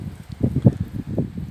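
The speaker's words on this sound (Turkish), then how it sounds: "maalesef aşırı derecede bir rüzgar var" Strong wind outdoors at a pigeon coop, low rumbling gusts buffeting the microphone in irregular bursts, fairly loud and close with no other clear sounds.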